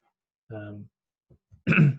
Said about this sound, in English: I'm sorry for clearing my throat so often.